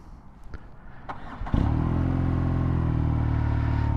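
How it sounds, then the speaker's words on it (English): A new BMW R NineT Urban GS boxer twin is cranked and catches after a few clicks and a brief starter whir, settling into a close, steady, low rumbling idle. "I am in neutral and I'm starting it up."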